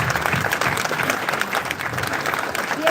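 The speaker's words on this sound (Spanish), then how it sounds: "I want you to give a round of applause." A crowd at a gathering gives a steady round of applause, many hands clapping continuously at close range for the whole stretch.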